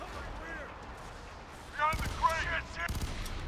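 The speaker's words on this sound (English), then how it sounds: "That's a rocket launcher." Rocket launcher and gunfire in the shooter game F.E.A.R. 3, a couple of sharp broadband blasts around the two- and three-second marks over a constant battle rumble, with voices and game chatter in the mix.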